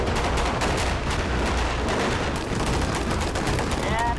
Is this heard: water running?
no